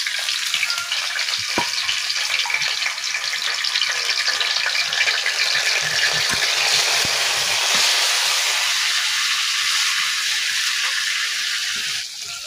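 Washed, dried loitta fish sizzle loudly in hot mustard oil, a steady dense frying hiss with faint stirring clicks that carries on without pause and eases slightly near the end.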